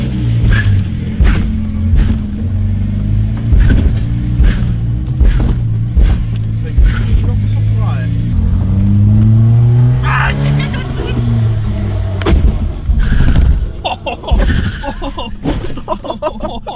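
A car engine fed ketchup in place of motor oil labours and revs unevenly, its strained droning rising and falling close up under steady talk, with a shift into reverse gear nearby.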